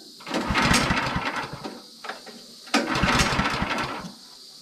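A small engine on a sawmill setup being pull-cranked twice, each attempt a loud rough sputtering burst of about a second and a half that dies away without catching.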